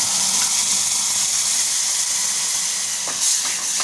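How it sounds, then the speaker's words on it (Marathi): Ground masala paste hits hot oil for Malvani tomato saar with a loud, close, continuous hissing sizzle that briefly flares near the end. "आपण जे वाटलेलं वाटण आहे ते टाकूया"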